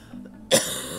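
Two people cough at the same moment in a single short, sharp burst, close and fairly loud after a brief quiet, then fading into a soft tail.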